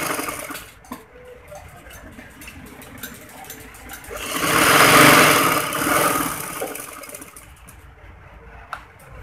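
A sewing machine stitches a folded edge on a hanky-cut frock, a steady mechanical whir that swells to a louder burst in the middle before easing off, close by with no talk.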